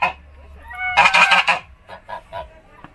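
Geese at a farm honk loudly in a dense burst of overlapping calls, followed by a few scattered single honks, close by with no talk.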